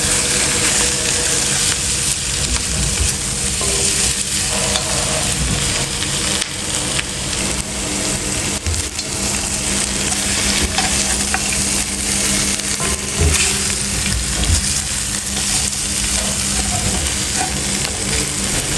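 Garlic and onion sautéing in a pan for pork hock paksiw, a steady, loud sizzle and crackle of oil that continues unbroken with occasional stirring scrapes and no voices.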